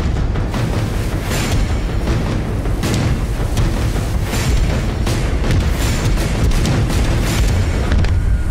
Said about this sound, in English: the captain had one extreme measure left: to surface and engage in an artillery battle.